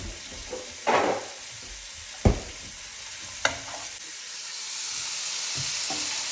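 Curry leaves sauté in a hot pan for an Indian beef curry, a soft continuous sizzle broken by a few sharp clanks and scrapes of stirring, with no voices.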